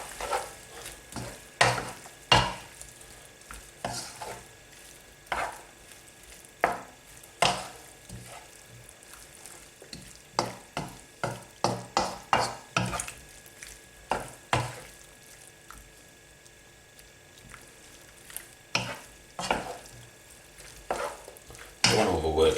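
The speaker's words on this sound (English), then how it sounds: "I'll just give all this a good mix." Chicken and chorizo pasta is stirred in a sizzling pan, with a steady run of sharp scraping and clacking strokes over a low frying hiss, close by and without talk.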